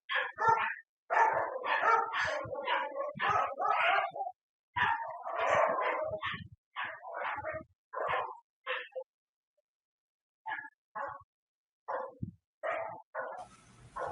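A dog barks in repeated close bursts, loud and dense at first, then thinning into scattered, quieter barks with gaps of silence toward the end.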